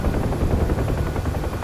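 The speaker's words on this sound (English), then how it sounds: "Another chopper right there, passing us a little close." A helicopter passes close by in the DCS UH-1H Huey flight game, a loud steady rotor and engine roar that fills the whole short stretch without letting up.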